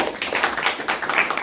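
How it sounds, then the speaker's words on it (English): An audience claps for two people who answered a question at a talk, a brief dense patter of many hands heard close. "We'll give both of them a round of applause"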